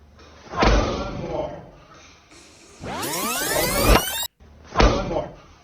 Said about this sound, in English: doing medicine ball slams with all the wires connected to him